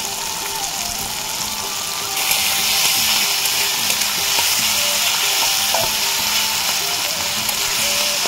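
Tomatoes salted in a pan for a Bengali rui fish curry, frying with a steady loud sizzle and occasional stirring scrapes, no voices.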